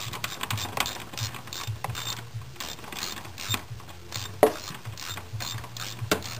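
Ratchet clicks away at a bolt during a car ECU harness check, a dense run of small mechanical ticks and pawl clatter over a low hum, with a sharper knock near the end and no talking.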